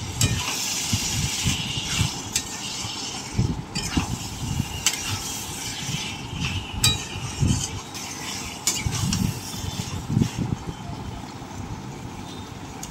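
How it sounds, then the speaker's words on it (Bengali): Mutton pieces sautéing in a pan for a Bengali mutton curry, with a steady close sizzle broken by repeated scraping and stirring clatters of a spoon against the pan, and no voices. "মাংসটা দিয়ে ভালো করে কষতে হবে।"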